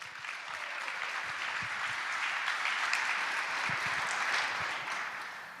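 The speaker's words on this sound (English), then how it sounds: "Please, everybody, give them a round of applause." An audience at a TED event inside a correctional facility applauds steadily, a dense wash of clapping that holds even and sustained from start to finish.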